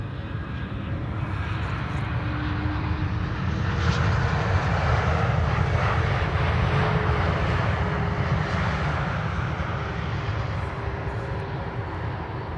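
Brand new airliner PH-AXK on arrival at Amsterdam Schiphol, a continuous close jet roar that swells slightly in the middle with faint whining tones over the rumble.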